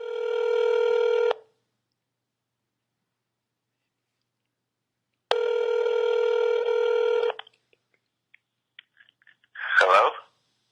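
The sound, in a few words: telephone dialing and ringing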